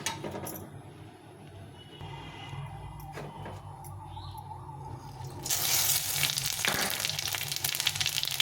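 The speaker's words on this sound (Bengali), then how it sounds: "এখন আমি এখানে ফোড়নে দেবো 5 ফোড়ন নিয়েছি, তেজপাতা, শুকনো লঙ্কা, এটা আমি ফোড়নে দিই।" Five-spice seeds, bay leaf and dried chili hit hot oil, a crackling sizzle that swells sharply louder partway through, close up with no speech.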